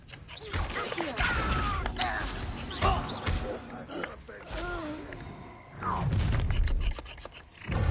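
Incendio fire spell cast in Hogwarts Legacy, a few booming whooshes and thuds rising over game voices and ambient effects, with a louder burst near the end.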